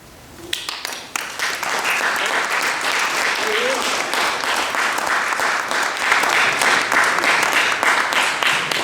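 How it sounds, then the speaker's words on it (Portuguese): An audience at a book talk breaks into applause after a poetry reading, the clapping starting abruptly and building into dense, loud, sustained applause. "Não se cansem muito a bater palmas"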